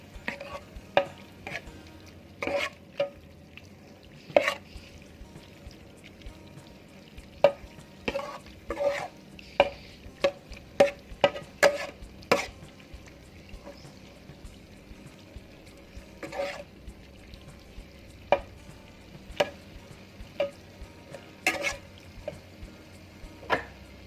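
Minced pork being stir-fried for larb, with a spatula scraping and tapping the pan in irregular bursts over a soft, steady sizzle; no talking.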